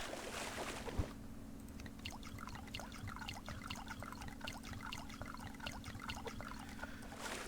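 Water trickles and splashes steadily as crops are watered in the survival game Subsistence, a soft continuous pouring with a low steady hum beneath, fairly quiet and with no voices.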